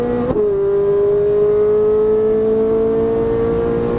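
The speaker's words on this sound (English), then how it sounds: "Squeeze the throttle all the way down. Go. Keep pushing. Upshift." A Ferrari 458 Italia accelerates hard on a track, a sustained high engine tone holding steady after a brief shift at the start, loud and close from inside the car.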